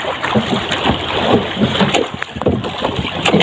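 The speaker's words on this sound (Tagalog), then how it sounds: "Sasagwa na lang ako pauwi." Small boat paddled home at dawn after night spearfishing, with repeated close splashes and sloshing water in an uneven rhythm.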